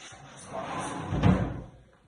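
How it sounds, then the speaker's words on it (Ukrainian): A drawer on a baby changing dresser slides open and shut, a short soft rolling scrape ending in a dull close thump, near and fairly quiet. "Проглядаю і шухлядки."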